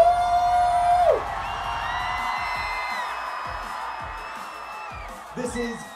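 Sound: crowd of Jewish teens screaming and cheering in Times Square

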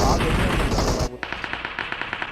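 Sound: gunfire in the video game PUBG Mobile

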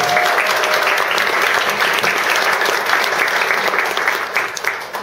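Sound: applause

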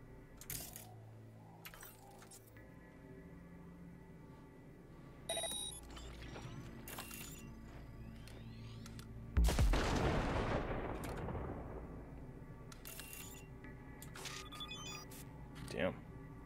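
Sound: grenade detonating in the video game Cyberpunk 2077

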